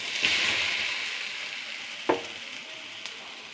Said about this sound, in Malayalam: അരപ്പം നമുക്ക് ഇളക്കി കൊടുക്കാം.